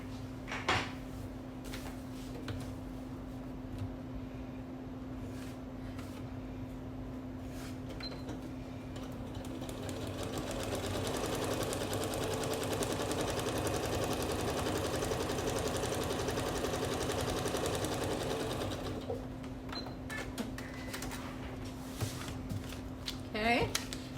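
A sewing machine stitches a quilt block, its soft mechanical whir running steadily through the middle stretch beneath a low hum, with handling clicks and someone talking around it.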